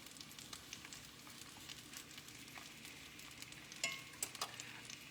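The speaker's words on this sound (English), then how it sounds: "All right, it's starting to fry up." Bologna fries in a pan with a continuous soft sizzle and scattered crackling pops, a few louder snaps near the end, quiet and close with no talking.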